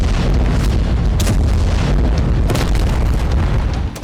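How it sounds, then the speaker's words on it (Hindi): Heavy explosions in the Russia-Ukraine war zone, a dense, loud roar punctuated by a couple of sharp blasts with no pause between them. "अगर कुछ सुनाई दे रहा था तो जबरदस्त धमाके की गूंज।"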